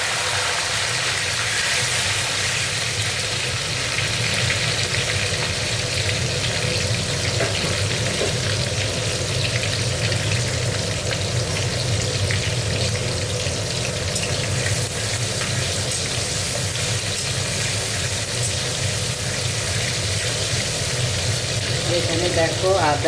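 Tomatoes are added to hot oil tempered with dried red chillies, garam masala and cumin for a cabbage curry, giving a loud, steady sizzle and crackle that runs unbroken from start to finish.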